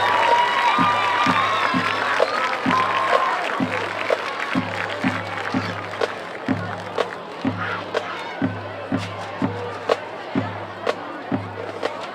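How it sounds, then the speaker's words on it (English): A football stadium crowd applauds and cheers for a high school marching band, the dense clapping loudest at first and thinning out, with steady booming drum hits pulsing underneath. "Ladies and gentlemen, please give a round of applause for your 2018 Amherst County High School Marching Lancers."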